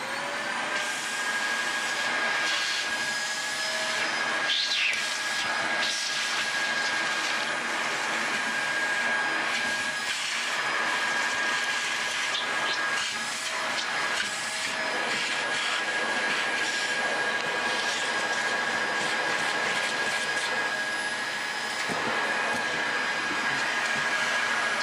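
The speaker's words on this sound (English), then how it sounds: "I'm just going to go around with the vacuum around the edges, pick up what I can" A vacuum cleaner runs steadily around the edges of a JBL L100 speaker, sucking up crumbled foam, a loud continuous whine and roar holding throughout with small shifts as the nozzle moves.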